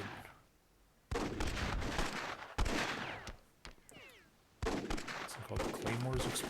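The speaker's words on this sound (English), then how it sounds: "It's like all the claymores exploded." Claymore mines going off in the strategy game Myth II: loud, sudden bursts of blast noise, a long sustained eruption after a short quiet gap, then another explosive wave with crackling debris.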